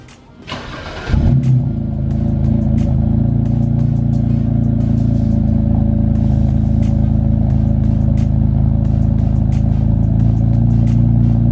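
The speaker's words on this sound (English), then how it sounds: "Let's do a cold start real quick." A BMW E90 car engine cold-starts: a short cranking burst catches into a loud, steady, elevated idle that drones on close by, with no talking.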